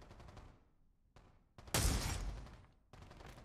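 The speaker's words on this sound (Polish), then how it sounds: "Słychać te strzały koło mojej głowy" Gunfire in the VR shooter Pavlov VR, with several sharp shots and one heavy, loud blast that decays slowly, set among corridor echoes, fairly faint overall.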